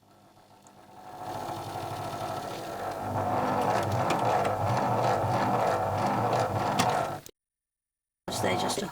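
A sewing machine stitches steadily over shirring elastic while sewing a 17th century shift, a close, even mechanical whir that builds after a quiet start and runs several seconds before cutting out abruptly.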